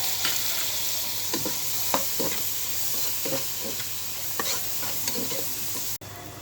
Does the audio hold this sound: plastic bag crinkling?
no